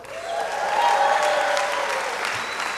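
Audience applauding at a college hall of fame ceremony in an indoor hall, a steady, dense wash of clapping from many hands holding at full strength throughout.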